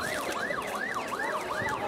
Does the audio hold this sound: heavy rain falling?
no